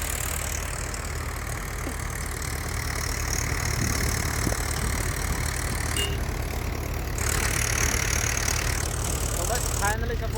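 A tractor engine idles nearby with a low, continuous rumble, holding constant throughout with faint background noise, during a groundnut harvest.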